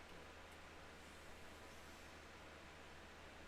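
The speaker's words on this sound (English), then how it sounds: "It's my fan." An electric fan hums in a steady, faint, unbroken hiss of white noise with a low drone underneath, nothing else audible.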